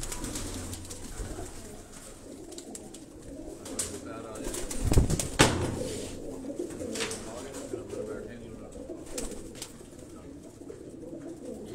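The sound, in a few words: flying pigeons cooing in a loft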